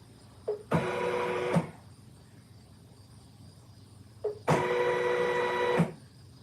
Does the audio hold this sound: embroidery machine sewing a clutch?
yes